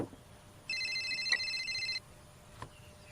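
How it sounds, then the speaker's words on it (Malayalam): A telephone rings once, a short bright electronic ringtone burst of about a second, fairly faint over a quiet background with no talk. "ആരാ ഇപ്പൊ എന്റെ ഫോണിലേക്ക് വിളിക്കുന്നത്?"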